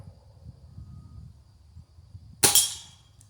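A Gamo Whisper Fusion Mach 1 .22 air rifle fires once outdoors at a wooden squirrel target: a single sharp crack near the end, following a quiet stretch with faint insect and bird sounds.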